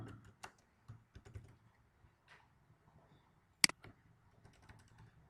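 PHP code being typed on a computer keyboard: sparse, quiet key clicks in short irregular bursts, with one sharper, louder keystroke near the end.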